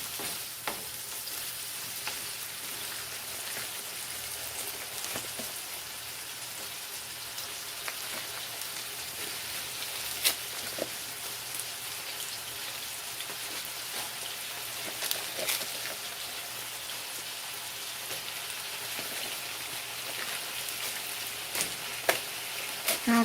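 Butter and Steak-umm sliced steak with peppers sizzle in a pan, a constant soft crackling hiss like light rain that runs on without a break, with a few small pops and stirring clicks along the way.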